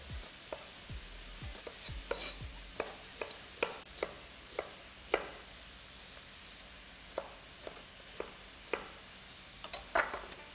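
Diced red capsicum cooking in a pan with onion, a soft steady sizzle broken by a string of light scraping and stirring clicks scattered throughout, quiet and close, with no voices.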